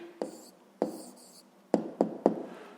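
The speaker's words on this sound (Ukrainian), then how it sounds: "Записуємо відповідь." A pen writes an answer on paper during a fifth-grade maths exercise, a handful of short scratchy strokes and taps spaced unevenly, close and quiet with no talking.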